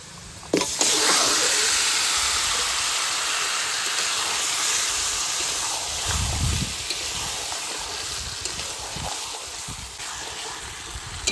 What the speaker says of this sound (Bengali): এবার মাখিয়ে রাখা মাছগুলো দিয়ে দেবো।